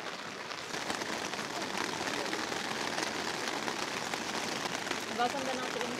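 Steady rain falling on a surface at a campsite in Malaybalay, Bukidnon, a dense continuous patter and hiss with no breaks, fairly close and even in loudness throughout.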